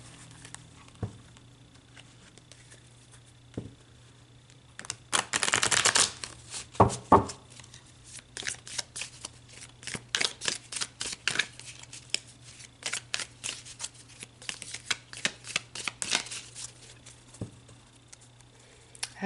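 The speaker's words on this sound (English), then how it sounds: "So let's pull you a tarot card about this." Tarot cards are shuffled and riffled close up, with a dense burst of papery flutter followed by a long run of quick crisp slaps and snaps at an irregular rhythm over quiet room hiss.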